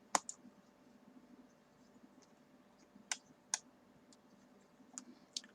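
Computer mouse clicks during data entry on a computer, a few sharp, isolated clicks spaced irregularly over faint background hum.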